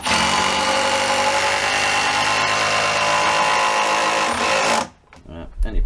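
A power impact driver drives 50 to 70 mm screws while stair runners are being built, giving a loud, steady whirring buzz for about five seconds before cutting off abruptly into quiet.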